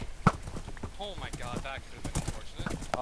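A horse's hooves clip-clop in a rhythmic patter during a video game battle, mid-loud and close, with voices talking over them.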